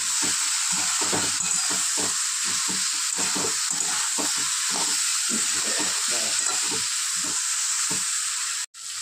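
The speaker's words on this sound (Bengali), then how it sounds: "সামান্য জল দিয়ে দেবো। খুব ভালো করে কষিয়ে নেব।" Spiced cauliflower and prawns sauté in a pan with a little water, a loud continuous sizzling hiss over repeated scraping stirs of a spoon, close and steady throughout.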